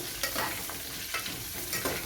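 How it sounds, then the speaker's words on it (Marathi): Green chillies roast in a pan with a soft steady sizzle, punctuated by a few light scraping stirs and small pops, heard close and alone. "अशा पद्धतीने आपल्या ह्या मिरच्या भाजल्या जात आहेत."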